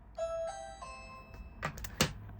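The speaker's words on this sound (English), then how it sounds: "Is the doorbell, so I'm gonna have to go get that" A two-tone electronic doorbell chime rings close by, followed by a couple of sharp clicks and knocks.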